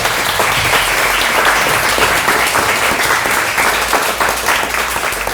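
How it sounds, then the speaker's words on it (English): An audience gives sustained applause at an art review event, loud and continuous clapping that fills the whole stretch without pause. "Another round of applause."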